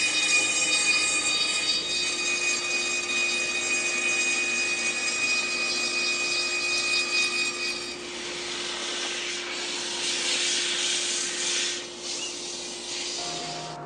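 A cordless drill spins a wooden cylinder over a table saw to round it, giving a steady close motor whine with a rough rubbing, grinding texture that grows stronger partway through.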